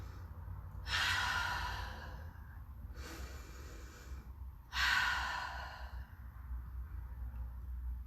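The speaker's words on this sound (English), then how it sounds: "I'm just going to ask you to take a couple of deep breaths with me here." Two slow, deep breaths, each a long airy exhale followed by a softer inhale, close and quiet in a calm room with a low steady hum underneath.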